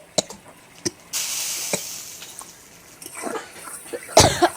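Bay leaves, cumin and dried red chillies hit hot oil for a koi fish curry with potato and cauliflower, giving a burst of sizzling hiss that rises and then fades, with a few sharp crackles and a louder spit near the end.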